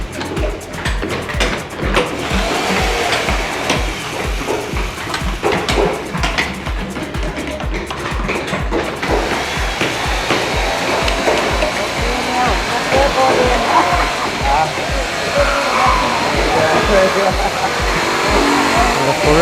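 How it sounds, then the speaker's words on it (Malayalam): Cutting machine running in the maintenance workshop at the Sanctuary of Truth in Pattaya, where structure parts are hand-worked. It makes a continuous, loud, close whooshing roar with a rapid underlying pulse. "ഇവിടെ ഒരു മെഷീൻ, കട്ടിങ് മെഷീനുണ്ട്. ഭയങ്കര സൗണ്ട് അതാണ്."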